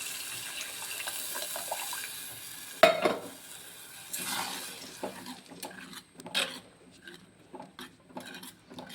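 Tamarind water is poured into a simmering rasam pot, giving a splashing gush that briefly turns into a liquid rush. Softer stirring and bubbling sounds close by follow it.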